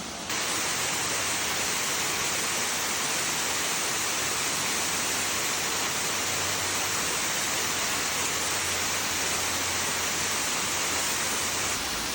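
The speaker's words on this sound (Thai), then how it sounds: "มาดูน้ำตกกันค่ะ" A waterfall at a Japanese scenic spot pours in a steady, dense, broadband roar that holds unbroken and fairly loud throughout, with no voices over it.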